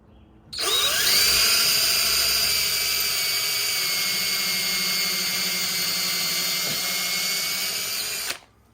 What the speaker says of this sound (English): I'm gonna go ahead and pre-drill a couple of holes here